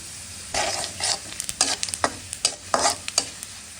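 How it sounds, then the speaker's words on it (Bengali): Bay leaves, cumin, cardamom and cinnamon crackle and sizzle in hot oil, with a run of sharp spattering bursts and stirring clicks close by. "তেজপাতা এখন একটু ভেজে নেব"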